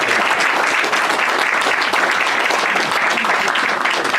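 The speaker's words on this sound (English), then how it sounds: "How about a nice round of applause for all the people who put this together?" Loud, dense crowd applause at an outdoor Memorial Day observance at Otis Memorial Park, continuous and even from start to finish with no speech over it.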